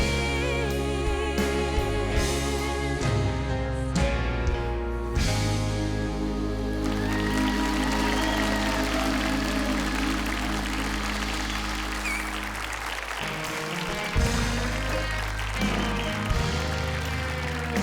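A crowd applauds after a singer performs her country song on a TV show, with steady clapping blended into loud, sustained band music that fades toward the end.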